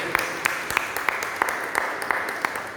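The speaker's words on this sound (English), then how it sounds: "give her a mighty applause" A church congregation at Holy Mass applauds steadily, a dense wash of clapping carrying through a reverberant hall with a few sharper individual claps standing out.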